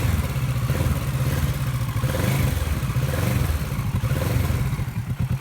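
A 2019 Kawasaki Z650 motorcycle idles and revs nearby, its exhaust giving a steady throbbing low rumble with slight rises and a few pulsing blips toward the end, no talk.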